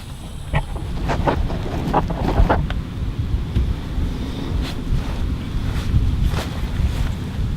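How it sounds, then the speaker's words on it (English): Steady wind roars and buffets the microphone outdoors, with scattered faint clicks and knocks over the continuous rush. "so it's real windy"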